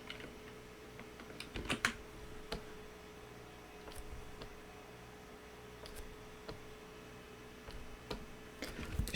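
A computer keyboard clicks in a few scattered key presses, a quick cluster near the start and then isolated taps, close and fairly faint over a soft room hum.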